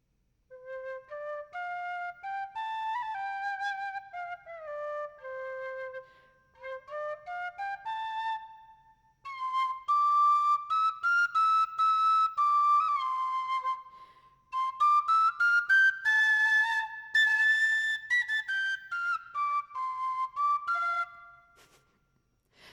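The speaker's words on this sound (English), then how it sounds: "I've been working on my penny whistle." Penny whistle plays a melody alone, clear tonal notes in rising and falling phrases with short gaps, the later passages louder and higher-pitched as the notes are blown harder.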